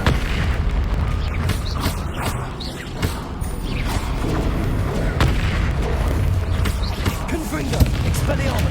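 A blasting spell in a Harry Potter video game sets off loud, dense booming explosions with crashing debris, a continuous heavy rumble punctuated by sharp blasts throughout.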